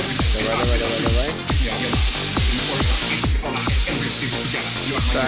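A spray gun lays down three-layer car paint in a steady, loud hiss, broken by two brief pauses between passes, with a voice coaching over it.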